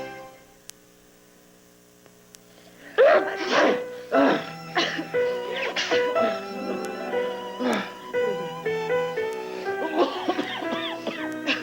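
Starting after a few seconds of quiet mains hum, an old 1985 local broadcast NyQuil cold medicine commercial plays a run of sneezes and coughs from a sick person, bursting repeatedly, close, over a faint steady hum.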